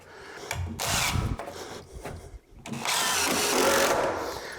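A power drill drives a screw through a bathroom floor into the joist beneath, with two loud bursts of whirring separated by a short pause, the second longer, close by under a little background talk.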